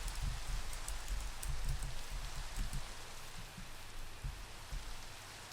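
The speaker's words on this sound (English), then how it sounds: "This rain sucks." Steady rain pours in Minecraft, a continuous dense patter with a soft low rumble that stays even throughout, no voices.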